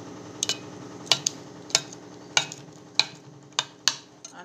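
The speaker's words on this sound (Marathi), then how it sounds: "तुमच्या आवडीनुसार मीठ टाकायचं आणि एकदा व्यवस्थित हलवून घ्यायचं" Rava dhokla batter in a bowl is stirred after salt is added, the spoon making a steady run of light clinks and scrapes roughly every half second, close and quiet with no talk.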